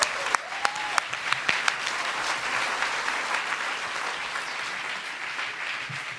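A crowd at the OUT d'or 2018 sports awards applauds Marinette Pichon, sustained clapping from many hands with a few sharp louder claps at the start, holding steady to the end.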